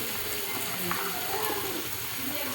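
Tomatoes frying in a pan give off a steady, close sizzle that holds constant from start to finish, with no voices over it.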